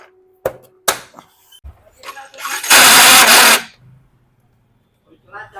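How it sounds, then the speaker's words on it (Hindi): Yamaha R15 V4 motorcycle with a failing, noisy self-starter: a few sharp clicks, then a loud, harsh burst of starter cranking lasting about a second that cuts off abruptly, with short faint noises before and after. "को सेटिंग करके देखते हैं बाइक को स्टार्ट करके स्टार्ट हो रहा है नहीं।"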